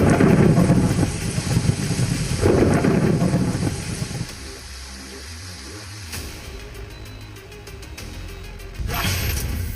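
Heavy monsoon rain pours steadily over flood-hit hill country in Himachal and Uttarakhand, loud and broadband with low rumbling swells, easing midway before surging again near the end.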